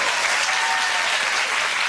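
A studio audience at a daytime talk show claps in steady, dense applause, loud and continuous throughout the short stretch.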